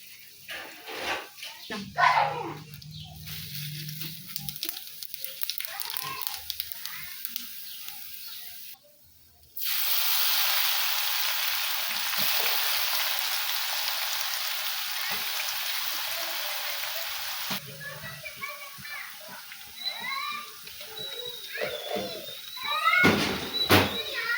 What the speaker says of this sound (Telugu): పోసేసాం తాలింపు గిన్నెల మీద